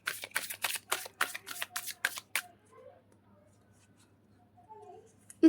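A deck of cards is shuffled in a quick riffle of crisp rapid flutters for about two seconds, close up, followed by near silence with faint handling sounds.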